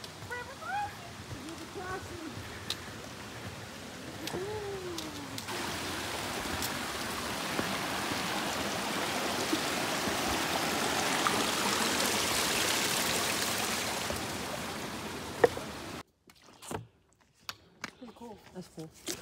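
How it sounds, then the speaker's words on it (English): Stream water rushes at an Appalachian Trail river crossing as a broad, steady hiss that swells louder toward the middle. Voices are heard early on, and the flow cuts off near the end, leaving scattered clicks. "River crossing."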